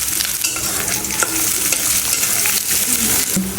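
Onion, garlic and green chilies fry in a hot pan, a loud close sizzle with scraping stirs and crackling spits throughout, no voices.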